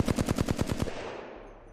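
Rapid automatic gunfire from an Apex Legends gun firing in full-auto: a loud, even burst of about eight shots, then a fading echo tail that ends in near silence.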